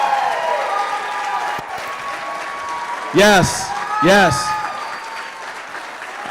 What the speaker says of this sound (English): Can we give them a little bit better round of applause than that?